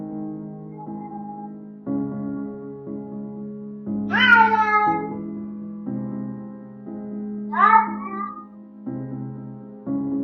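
A cat meows in two drawn-out, talk-like calls, the first around the middle and the second a few seconds later, close and clear against a steady low background hum.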